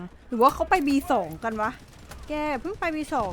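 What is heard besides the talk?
No everyday noises stand out.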